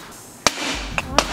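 5 mm thick float glass struck by a thrown piece of wood, giving sharp impact cracks and a brief shattering burst, followed by two smaller crisp snaps a moment later, close and loud.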